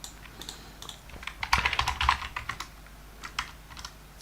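Computer keyboard typing, close and clear, with scattered single keystrokes that build into a quick burst of clicks before slowing to sparse taps.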